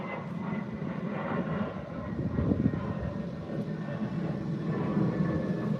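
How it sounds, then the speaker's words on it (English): A fixed-wing airplane passes overhead outdoors, its steady broad engine roar rising slightly midway and holding at moderate distance for several seconds with no talking. "Now that's an airplane."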